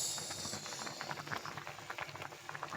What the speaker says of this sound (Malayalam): തലക്കറി വേകുന്നു